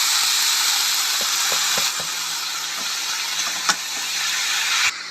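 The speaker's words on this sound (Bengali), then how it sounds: "জিরের গুঁড়ো, হলুদ দিয়ে দিলাম, সিদ্ধ করা মুচাটা ঢেলে দেবো।" Boiled banana flower poured into a hot pan spiced with cumin powder and turmeric, giving a loud steady steaming hiss with a few light knocks from the pan and no talking.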